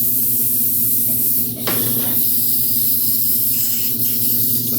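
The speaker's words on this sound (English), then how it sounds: "clean out my airbrush real quick" An airbrush being cleaned out, giving a steady close-up hiss of spraying air and paint that runs throughout, with a brief change in the stream partway through.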